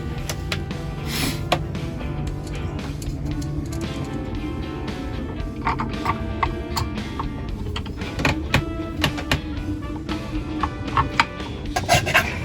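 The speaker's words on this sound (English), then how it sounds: "Making holes in the bottom with a file." A hand file rasps holes into the bottom of a small part in steady back-and-forth strokes, close up, with light clinks between passes.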